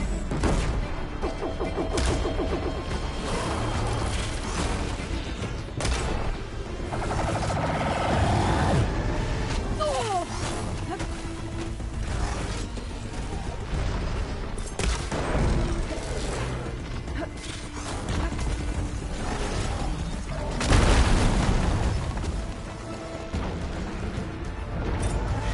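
A hostile machine in Horizon Forbidden West fires at the player in a steady mechanical barrage, with clanking, ratcheting and dull thuds over a dense game soundscape, and a heavier impact near the end.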